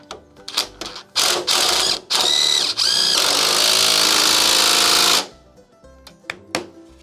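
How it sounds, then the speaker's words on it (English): An impact driver with a 1/2-inch socket tightens a clamp to hold a log in a sawmill jig. Loud, close bursts of rapid hammering ratchet into a sustained rattling run of about three seconds, framed by clanks and knocks. "the easiest way is getting an impact driver, getting a little 1/2-inch socket for that"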